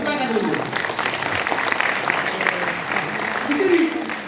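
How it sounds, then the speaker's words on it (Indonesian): Congregation clapping at an Easter 2024 service held at the North Sumatra governor's office, a steady dense patter of hands running the whole time with voices calling out over it. "Tepuk tangan dulu"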